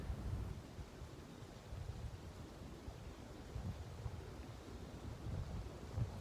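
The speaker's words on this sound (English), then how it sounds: "It's so freaking windy today." A low, steady wind rumble blows across open crop fields throughout, fairly faint with gentle gusts swelling and easing.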